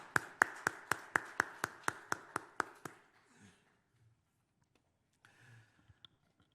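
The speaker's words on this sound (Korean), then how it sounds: "우리도 박수로 하나님께 감사와 찬양을 올려드리겠습니다" A church congregation at a Sunday worship service claps in unison, about ten sharp, evenly spaced claps at a brisk steady beat, fairly quiet, then fading into near silence with a few faint rustles.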